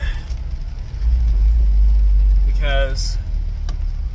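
A Toyota 4Runner SUV engine idles with a low, uneven rumble, swelling louder partway through, while a brief voice sounds over it.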